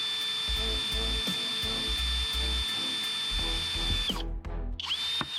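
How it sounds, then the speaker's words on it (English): A power drill whines continuously while boring through the middle of a threaded plastic plug for a kayak, with a few brief pauses and a final stop and restart near the end. "you're going to drill a hole right through the middle of it"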